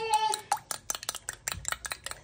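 An egg is whisked with a fork in a bowl for moussaka, giving a quick series of light, sharp metallic clicks and taps in an irregular rhythm, close and fairly quiet.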